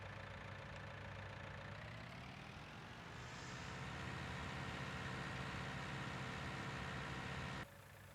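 A tractor engine in Farming Simulator 19 runs steadily, a constant droning hum that rises slightly in pitch partway through and drops in level at the end.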